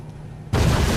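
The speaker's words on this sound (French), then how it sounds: "les dialogues c'est des grosses explosions" Explosions from the Ghostbusters video game: a sudden loud blast bursts in halfway through after a quieter stretch and sustains as a dense, roaring rumble to the end.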